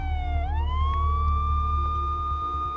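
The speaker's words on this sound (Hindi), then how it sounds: "उसे दूर से आती हुई पुलिस के सायरन की आवाज थोड़ी देर में सुनाई देने लगी।" A police siren wails steadily, a single rising tone that holds high and loud over a low rumble of traffic.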